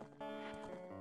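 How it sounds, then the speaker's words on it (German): A horse in the video game Zelda Ocarina of Time gives a brief whinny with hoof clatter, loud and close against game audio, lasting about a second. "Ah, ein Pferd! Ein aggressives Pferd, das will mich töten!"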